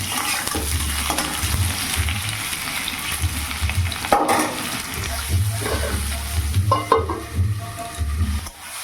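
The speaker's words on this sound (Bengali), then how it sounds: "তো এখন ইঁচড়টা ভেজে নেই, আগে প্রেসারে সেদ্ধ করে নিয়েছি।" Pressure-boiled jackfruit sizzles in oil in a wok, a close bubbling hiss with scraping stirs and a few metallic knocks, while a low hum runs underneath.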